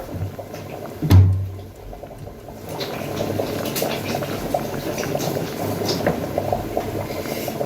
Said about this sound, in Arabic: هو قرب يتسلق معانا